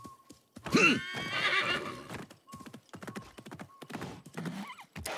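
Hoofbeats of a horse in the game Assassin's Creed clatter in quick bursts alongside a loud whinny, with a few short game-like clicks and pauses between.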